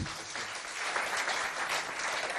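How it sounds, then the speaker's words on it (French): An audience claps after a speech at a school contest event in Doba, a dense, even burst of applause at moderate volume lasting the whole moment with no voices over it. "Ce beau discours mérite encore plus d'applaudissements, s'il vous plaît."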